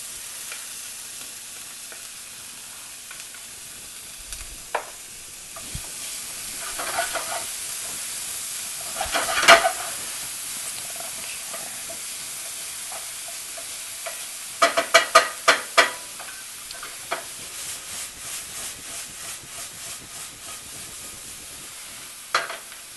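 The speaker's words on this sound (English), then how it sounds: "saute our shallots and get them nice and translucent" Shallots sauté in hot oil with a soft, continuous sizzle, while a utensil clacks against the pan in scattered knocks and then a quick cluster of sharp taps near the end.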